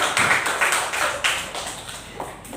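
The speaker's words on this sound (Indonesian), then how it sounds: "Beri tepuk tangan untuk Rafi" A school class applauds, a steady wash of many hands clapping for a couple of seconds, close and moderately loud, then thinning out toward the end.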